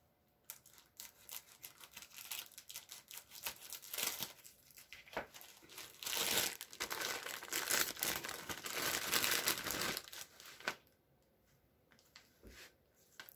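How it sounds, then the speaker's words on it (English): Paper or plastic crinkling and rustling as scissors cut open a stitched bag of mail, a busy stretch of rough crackles and snips that swells, then stops abruptly near the end. "I'm going to take my scissors and I'm going to cut this bag open."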